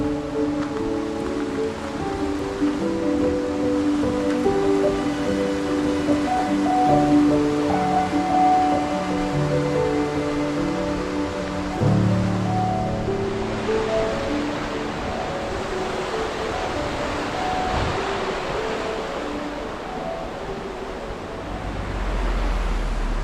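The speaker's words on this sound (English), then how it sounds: "just crossing the River Dart" Water of the River Dart in Devon rushes in a broad steady roar close by, with some wind buffeting the microphone and no speech.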